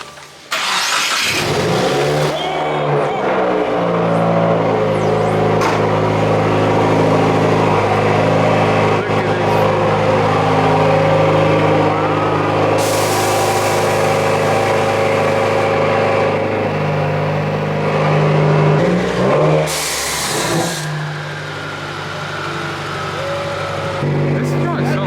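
A Subaru WRX being repaired for a smoke problem cranks and fires up, then runs with a steady, loud engine drone and occasional revs, close by; people talk over it.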